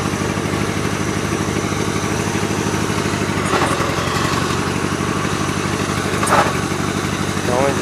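A tractor engine chugs steadily at idle throughout, loud and close, with a brief clank or two over the rumble.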